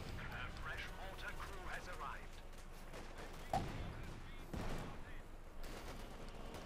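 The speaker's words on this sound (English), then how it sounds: "Their grease guns tearing into the Germans." American grease guns fire in Company of Heroes 2, bursts of submachine-gun fire mixed with other battlefield shots and a few heavier thumps, fairly faint beneath a person talking.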